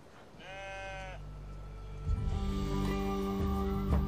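A single goat lets out one clear bleat close by at a mountain nomad summer camp, followed by low rumbling background noise and a steady hum.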